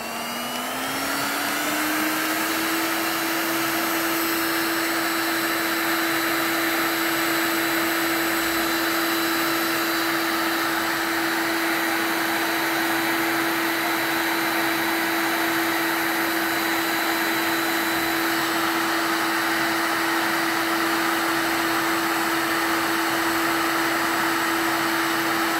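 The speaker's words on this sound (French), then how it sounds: "Je vais essayer d'augmenter la vitesse du ventilateur pour voir si ça chauffe quelque chose." A Parkside digital hot air gun's fan spins up over the first couple of seconds, then holds a loud, steady whirring roar with a constant tone for the rest of the stretch, with no talk.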